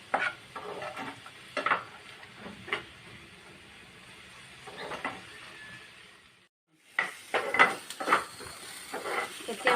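Spices frying in a pan for paneer gravy masala, stirred with intermittent scraping strokes over a soft sizzle, with a brief pause before the stirring resumes.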